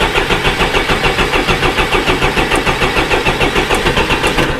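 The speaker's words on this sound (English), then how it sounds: "Go ahead and crank her a little bit more." The diesel engine of a Deere 455E track loader cranks with air in the fuel lines, a loud, rapid and rhythmic chugging of the starter turning over steadily and close by without catching, with no talking.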